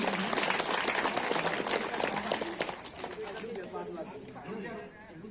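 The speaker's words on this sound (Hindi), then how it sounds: "जोरदार ताली से स्वागत करूं" Loud crowd applause at an outdoor martyrdom day commemoration, dense clapping that gradually thins as voices and chatter rise beneath it.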